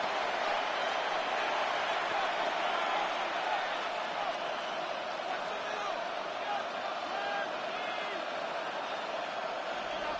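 A steady, dense roar of a stadium crowd in an EA Sports NFL football video game during a Bears versus Broncos matchup, continuous and loud throughout with no distinct breaks.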